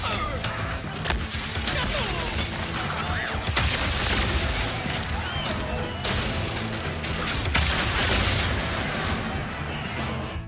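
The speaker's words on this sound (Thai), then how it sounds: "ลักษณะการยิงของปืนชนิดนี้ก็จะเป็นแบบลูกซองเลยครับกด R2 เครื่องเดียวจะเป็นการยิงแบบ Single Barrel ครับ" Shotgun blasts from the Enforcer in the video game Ratchet & Clank: Rift Apart, firing single and double barrel shots in a dense, continuous barrage of loud booms and crashes mixed with game effects.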